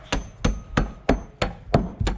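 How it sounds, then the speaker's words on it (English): A hammer smashes dry ice into powder with seven sharp, evenly spaced thuds, each one loud and close with a short crunch and nothing else heard between the strikes. "Okay, so we've done some more hammering, and you can see it's much more snow-like."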